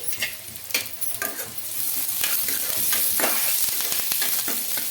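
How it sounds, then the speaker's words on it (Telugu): Onions and curry leaves fry in an oiled pan with a steady, bright sizzle, while a spoon stirs and scrapes through them in quick intermittent strokes, close and loud. "ఆనియన్స్ అయితే వచ్చేంత వరకు మనం ఫ్రై చేసుకోవాలి"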